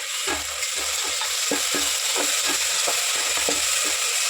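Green chili paste fries in hot oil in a pan for an Andhra-style chicken pulao, a steady close sizzle broken by repeated scraping and stirring clicks of a spoon against the pan.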